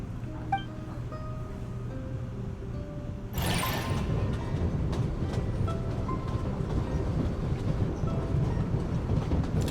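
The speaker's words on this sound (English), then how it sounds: "Let's book this train." A train in the video game Genshin Impact starts rolling, its steady rumble and rhythmic clatter swelling suddenly after a quiet hum, close and loud, with no voices.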